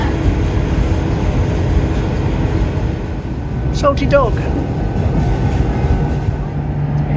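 A train passes at Dawlish with a steady, loud rumble and rush that runs throughout, while a person speaks briefly over it.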